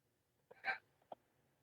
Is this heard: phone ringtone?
no